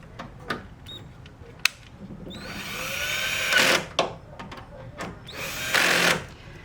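A power drill drives a screw into a Porsche 911 997.1 LED taillight, whirring in short bursts that build into two longer rising whines, with a few clicks and knocks between them.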